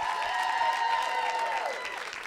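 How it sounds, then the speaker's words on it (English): A live show audience claps and cheers while a band holds sustained notes underneath, the applause fading slightly toward the end. "Give yourself a round of applause."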